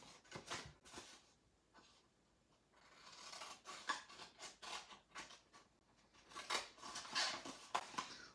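Scissors snip through paper up to a score line, producing quiet, irregular crisp cuts and rustles close by, with no talk.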